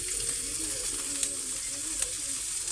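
Thinly chopped meat frying loudly in a hot pan, a dense continuous sizzle with occasional sharper crackles.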